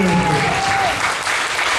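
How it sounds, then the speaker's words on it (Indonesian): A church congregation at the dedication of GKII Manado breaks into loud, dense applause that fills the room, with a voice briefly audible at the start. "Mana tepuk tangannya bagi ini?"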